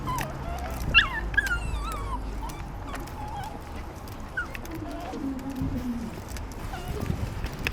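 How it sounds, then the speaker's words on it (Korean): A dog whimpers and whines in high, wavering bursts, with a few faint yips, over a busy outdoor background at a hot spring lodge with occasional bird calls. "또 낑낑 또 낑낑."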